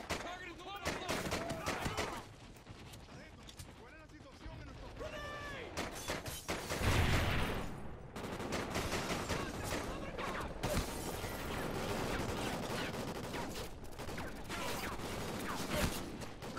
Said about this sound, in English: Hey, I'm taking fire!